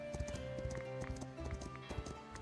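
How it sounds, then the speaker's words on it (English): A small horse's hooves clip-clop in the colony-building game Foundation, a quick, even trotting rhythm over a music bed. "Delivery on the little horse, eh?"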